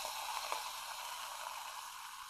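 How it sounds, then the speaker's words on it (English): Coca-Cola soda fizzes with a soft, steady hiss of tiny popping bubbles, faint and continuous with no voices. "My Coca-Cola fizzled."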